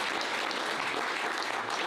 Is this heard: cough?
no